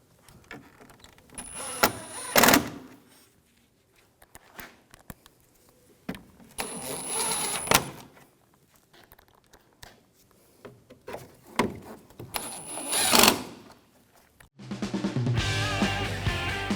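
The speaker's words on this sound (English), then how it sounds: "Now take the screws and snug these down." Screws are driven into a Volkswagen Jetta front bumper cover in three separate bursts of a power driver's whine, separated by quiet handling noises, with a different mechanical noise at the end.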